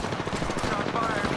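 Rapid automatic gunfire in the video game Apex Legends, a dense rattling burst of shots lasting the whole moment with a voice talking over it.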